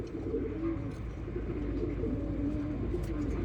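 Pigeons coo steadily in a loft where breeding pairs of khaki pigeons are kept, the low rolling calls overlapping continuously and fairly close, with no talk over them.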